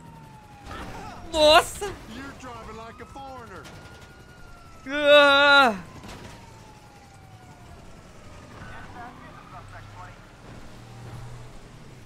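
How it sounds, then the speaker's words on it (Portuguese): A police siren in GTA 5 wails in short, sharp bursts twice over a low engine hum, with someone exclaiming in between. "Desligar a sirene."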